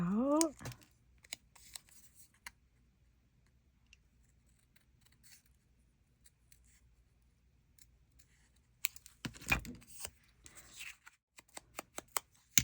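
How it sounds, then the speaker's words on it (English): A few soft, sparse snips and paper rustles from scissors trimming paper for a junk journal, quiet and close, with long gaps between cuts and brief vocal sounds at the start. "I'm going to trim this to make it a little shorter. And then cut it"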